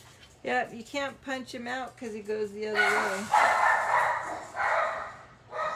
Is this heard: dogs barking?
yes